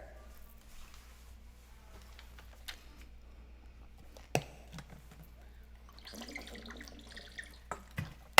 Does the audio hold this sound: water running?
yes